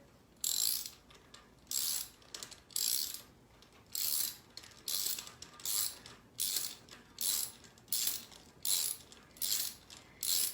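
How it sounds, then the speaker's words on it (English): A socket wrench ratchets a spark plug in, with about a dozen short, crisp clicking bursts in a regular back-and-forth rhythm, close and clear against a quiet background, no talking. "So I'm going to use my socket wrench and install the socket."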